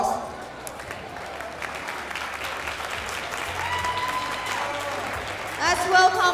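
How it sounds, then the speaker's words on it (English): Sustained applause from a conference audience, steady clapping throughout with a brief swell near the end as a voice briefly rises over it. "Let's give them a warm round of applause."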